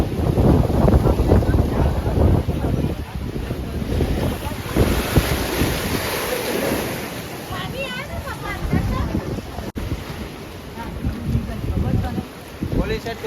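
Sea waves rolling in and wind blasting the microphone along the shore at Diu, a loud continuous roar with people talking over it.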